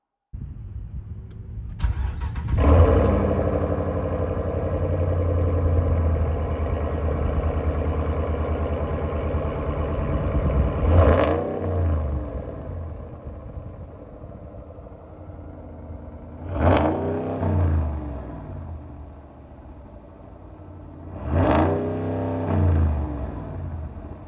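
A RAM 1500 Rebel G/T pickup truck engine starts and idles steadily, then revs up in three distinct surges as the truck drives off, loud and close with no talking.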